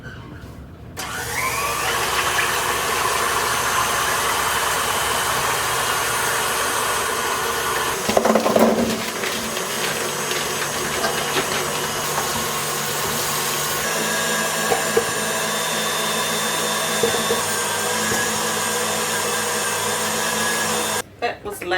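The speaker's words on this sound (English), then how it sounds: "I'm going to start whipping this cream to make the butter" A Thermomix whips cream into butter, a loud steady motor whir with harmonic hum running nearly the whole time, with a brief louder surge in the middle and a sudden stop at the end.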